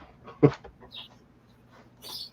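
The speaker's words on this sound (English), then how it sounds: "I don't know if you can hear the birds out my place." Birds call outside a home in the morning, a few short chirps and clucking notes scattered at middle distance against a quiet background.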